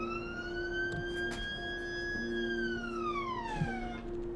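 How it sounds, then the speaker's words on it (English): Tornado sirens sound during a noon Saturday test, several distant wailing tones rising, holding and then falling together over a low steady drone, faint and alone with no talk. "those are the tornado sirens text messages going off for their noon Saturday test"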